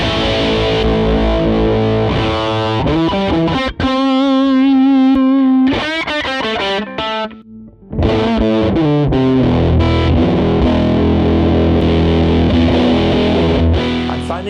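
Electric guitar through a Tube Screamer-style overdrive on a cheap budget amp modeler, loud crunchy chords and sustained single notes with a short bent lick, a brief near-silent gap, then more driven strumming.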